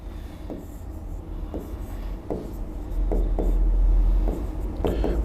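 Pen strokes writing out a maths solution, a series of short scratchy marks in irregular bursts against a quiet room hum, with no speech heard.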